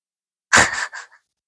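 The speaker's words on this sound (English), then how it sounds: "Did you just snort? You snorted at me and everybody." A person gives a single short, breathy snort, sharp at the start and trailing off in a couple of quick puffs, close and alone against silence.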